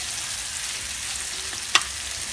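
Jackfruit seeds fry in a pan with an even, continuous hiss and sizzle, interrupted by a single brief sharp clink near the end.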